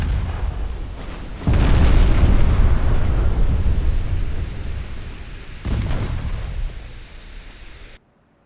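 Warship flash fire explosion in the naval game Ultimate Admiral Dreadnoughts: a heavy low boom erupts and rumbles on, followed a few seconds later by a second deep blast that fades before the sound cuts off.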